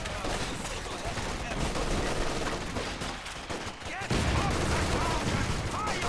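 Dense, continuous gunfire in a World War II video game, with an MG42 machine gun among the bursts alongside rifle grenades and other weapons, loud and sustained throughout with a voice talking over it.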